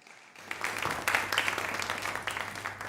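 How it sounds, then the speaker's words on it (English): Applause from the audience at the grand finale of an inter-school public speaking competition, with steady clapping from a fairly small crowd that starts after a brief pause and keeps going at a moderate level. "A round of applause, please"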